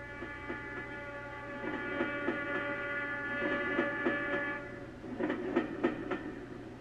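A train horn blares in a long sustained chord, with rhythmic clacking of wheels on rails underneath and a brief second horn blast.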